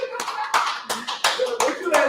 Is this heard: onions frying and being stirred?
no